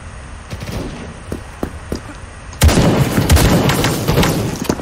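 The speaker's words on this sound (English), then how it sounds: "Oh no, I'm shooting." Gunshots in the browser shooter Krunker.io: a few sparse, faint pops at first, then a sudden louder stretch of rapid close firing and impacts.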